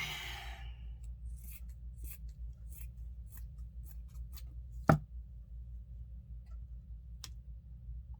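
Sparse, crisp snips of scissors trimming Dollar Tree gnome craft material, a handful of light close cuts spread out over a low steady background hum, with one sharper louder snip midway.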